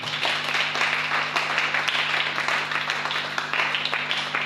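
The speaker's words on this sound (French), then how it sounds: "Acclame pour la parole du Seigneur." Congregation in a church clapping together, a dense sustained round of applause carried under a constant low hum.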